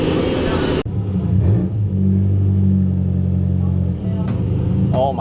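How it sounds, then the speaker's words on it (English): A Willys owner's type Jeep engine rumbles steadily on a low cruise, a loud, continuous mid-pitched drone close by that holds throughout, with brief voices at the start and end. "I'm gonna get in this owner's type Jeep, OTJ, and then we're gonna go for a low cruise"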